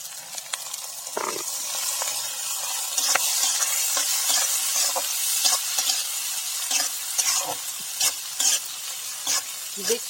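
Peas and rice fry in a pan while being stirred, a close sizzling hiss broken by frequent scraping and clattering strokes of the spatula that keep up a steady rhythm.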